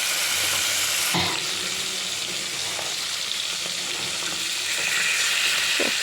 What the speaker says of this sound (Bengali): এইভাবে মাছগুলো একটু ভেজে নেব